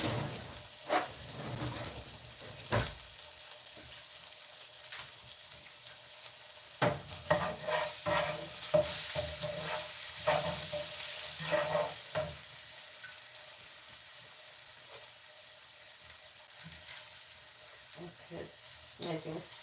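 Onion sizzles in butter in a frying pan, a soft steady hiss with scattered stirring clinks and scrapes, while a person talks quietly over it.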